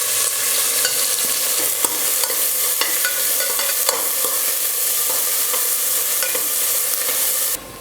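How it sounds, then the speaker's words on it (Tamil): Two large onions, sliced lengthwise, sauté in hot oil in a pan, making a loud, continuous close sizzle broken by frequent stirring scrapes, alone with no voices, before cutting off near the end. "வெங்காயம் வந்து நல்லா வதங்கி கலர் வந்துடுச்சு"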